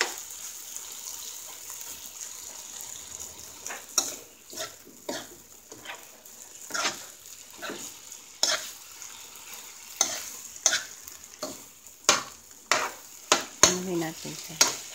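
An egg fries in a pan with sautéed eggplant and bitter gourd: a faint, steady sizzle under repeated scraping spatula strokes that become sharper and more rhythmic toward the end, with no voices.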